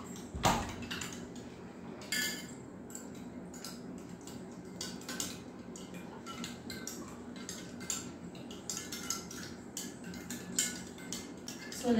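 A spoon stirs calcium and Cal Mag D Plus powders together in a glass, giving faint, repeated light clinks and scrapes over a quiet room hum, with one sharper knock near the start.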